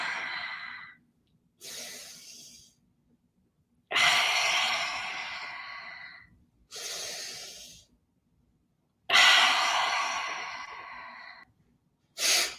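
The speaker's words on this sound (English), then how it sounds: "Powerful breaths. See if with each breath you can breathe a little deeper." Slow, powerful deep breaths taken in a guided breathing exercise, six long airy inhales and exhales in a steady rhythm with quiet pauses between, close to the microphone.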